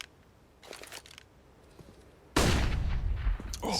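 Scout sniper rifle firing in a Counter-Strike match on the Overpass map, a sudden loud burst after quiet stretches with faint game clicks, the blast sustaining with a crackling tail.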